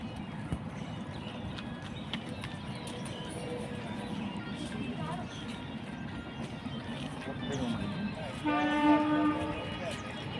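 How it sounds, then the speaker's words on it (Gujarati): A train rumbles past steadily, and near the end a loud horn blares over the clatter. "ટ્રેન આવી ગઈ છે,"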